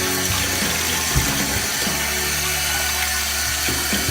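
Steady rush of water from a tap splashing into a sink, continuous and close, with some low hum underneath.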